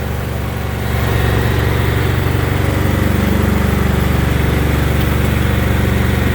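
A Briggs & Stratton small engine, freshly replaced and being broken in, runs under load with a steady low drone that rises slightly after the first second and then holds constant and loud, with no voices.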